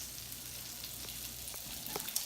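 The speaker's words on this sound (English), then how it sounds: "I'm just gonna saute it a little bit" Pizza topping sautés in a pan with a soft, steady sizzle and faint stirring clicks, quiet and close, with no talk.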